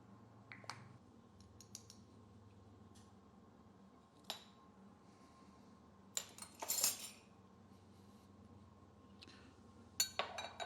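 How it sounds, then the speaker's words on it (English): Ranch seasoning and dill being mixed into butter with a utensil in a quiet kitchen: faint, sparse clinks and scrapes against a bowl, with a few brief louder clatters. "Mix that all together, and you're going to have your coating for your cauliflower."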